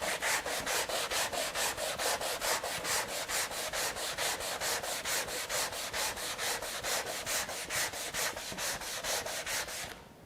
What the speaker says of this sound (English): So now I've got my sanding block with my sand net.